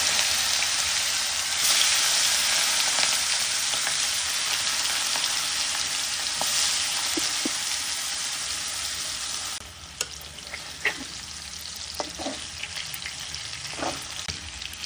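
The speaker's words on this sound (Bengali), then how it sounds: "কড়াতে তেল দিয়েছি, কড়াতে ভেজে নেব।" Spice-marinated rohu fish pieces, coated in ginger-garlic paste and chilli powder, frying in oil in a kadai: loud continuous close sizzle that drops somewhat in level partway, with occasional sharp pops and clicks, no speech.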